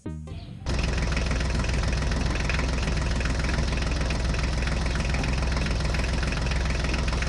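A mini Swaraj tractor engine drives toward a field, kicking in after a brief start and then running loud and close with a steady, rapid knocking chug and no voices.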